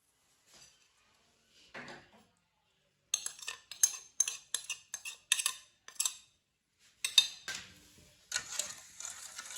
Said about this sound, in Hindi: इसे अच्छी तरह मिक्स करते जाएंगे, पकाते जाएंगे।